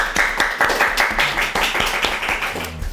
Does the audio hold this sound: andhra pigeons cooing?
no